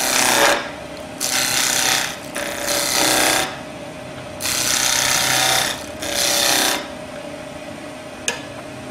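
A skew chisel cuts into a turned wooden pommel on a lathe, several loud bursts of rasping, scraping wood contact separated by short gaps, with a steady motor hum underneath.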